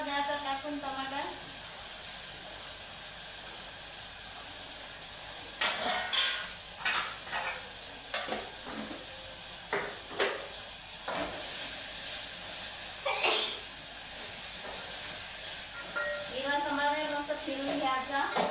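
Tomatoes and green coriander hissing and sizzling in hot oil in a pan for khichdi, a steady close frying hiss with scattered sharp crackles and stirring clatter, while someone talks over it.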